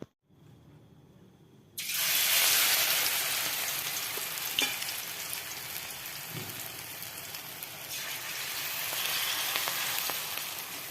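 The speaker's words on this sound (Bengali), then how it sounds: "তেল গরম হয়ে গেছে, এই যে বেসন দিয়ে ভাজছি গরম গরম বড়া।" Gram flour fritters with whole coriander leaves drop into hot oil, and a loud, bright sizzle bursts in after a quiet start and holds steady with small crackles.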